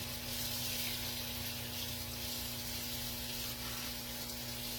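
Tap water runs steadily into a sink while a canning funnel is rinsed out, a constant even rush with a faint hum beneath it, no talking.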